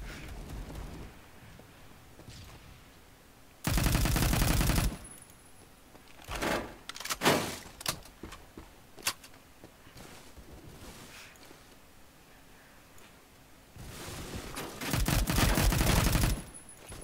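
An automatic weapon fires at close range in a video game, loud sustained bursts of rapid fire with scattered single shots and clicks in between, ending in another long burst.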